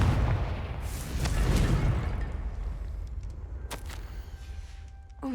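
A Confringo fire spell cast in the Hogwarts Legacy video game goes off as a broad, rumbling blast that swells early and then fades into a low roar, with a few sharp cracks afterward and no one talking.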